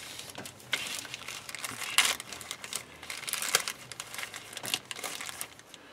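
Plastic packaging on a Revell Monogram B-25J Mitchell model kit is cut and torn open, close crinkling and sharp tearing bursts in irregular succession, faint and alone.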